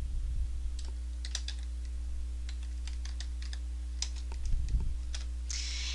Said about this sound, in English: then with your keyboard simply start typing